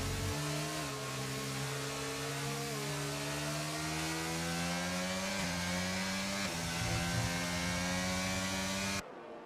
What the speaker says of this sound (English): See how smooth the revs are from Killian.